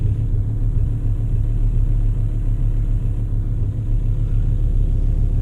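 A VW Touareg V6 diesel idles steadily just after a glow plug repair, a loud, even low rumble running unbroken throughout with no voices over it.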